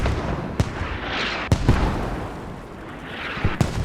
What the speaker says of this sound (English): The mortars are making it difficult for the remaining people to cross the streets.